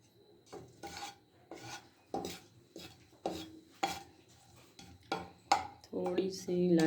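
Cardamom pods frying briefly in a pan for vermicelli kheer, with a series of separate rasping scrapes of a spoon across the pan at a slow, regular rhythm, growing into a fuller sizzle at the end.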